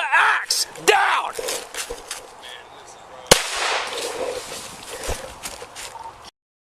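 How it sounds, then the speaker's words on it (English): A police officer fires gunshots at a man holding a hatchet, a couple of sharp loud cracks heard over shouting and groaning voices, with one especially abrupt bang in the middle. "10:33, shots fired."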